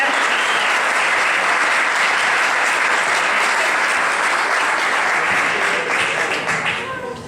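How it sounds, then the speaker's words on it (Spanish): An audience at a lecture and debate gathering at an institute breaks into loud, sustained applause that fades toward the end. "Un fuerte aplauso para ellos"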